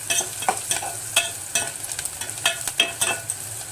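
Turmeric stirred into a frying mixture for gongura dal curry, with a spoon scraping the pan in a series of close, sharp clinks and scrapes over a low, steady sizzle.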